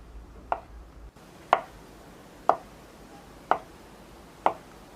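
A knife cutting a rolled log of dough into equal pieces for pan-fried bread, five crisp knocks on a board at steady one-second intervals, close and clear with no talk.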